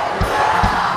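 A church congregation shouts hallelujah in loud bursts of massed voices, two strong surges rising over a constant roar of crowd noise.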